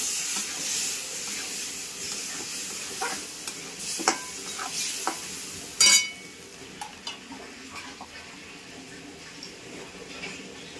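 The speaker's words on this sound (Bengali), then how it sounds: "একটু সামান্য দিয়ে দিচ্ছি জল, মশলাটা ভাজার জন্য।" Ground spice masala of turmeric, cumin, coriander and chilli powder fries in a pan, hissing and sizzling under scraping stirs, then a sharp steamy burst as a little water goes in and the sizzle settles.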